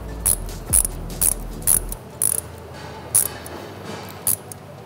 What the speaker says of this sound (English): Then we lock the bolt on the entry guide down.